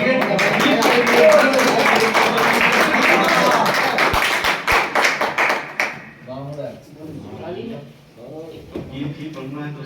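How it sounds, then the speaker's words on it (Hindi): An audience at a Hapur mushaira claps loudly for a poet, a dense burst of applause that fades after about six seconds as a voice takes over. "एक जोरदार तालियों से खैर मकदम कीजिए।"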